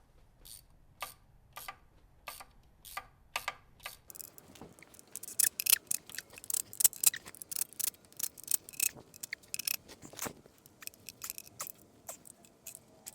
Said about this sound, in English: my hand ratchet?